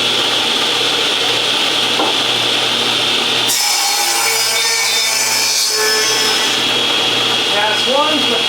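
A power saw cuts through a solid cherry soprano ukulele neck blank in a workshop, giving a steady harsh whine and rasp that shifts in tone partway through the pass, loud and continuous with no talk over it.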